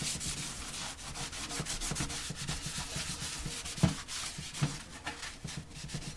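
Scrubbing and rubbing around the bottom of a toilet flush valve during a flush valve replacement, a steady close scraping texture with a couple of sharper knocks near the end, no talking.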